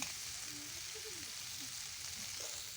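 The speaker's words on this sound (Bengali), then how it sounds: "এবার একটু নাড়াচাড়া করে আমি দেখুন গুগলির থেকে কত তেল ছেড়ে দিয়েছে" Googli snails fry in their own released oil while being stirred, giving a steady, even sizzle close by with faint scraping of the stirring and no talk.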